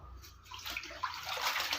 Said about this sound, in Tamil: தண்ணியில் வந்து நல்லா அலசிடலாம்.